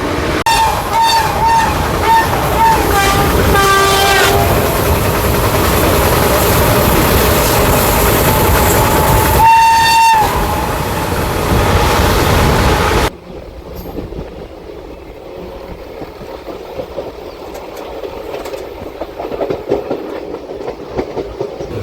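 An Intercity Superfast train runs from Bhubaneswar to Vizag along the coastal route, wheels clattering in rhythm with a loud rolling roar and a horn blast; the noise then drops to a quieter, muffled rumble.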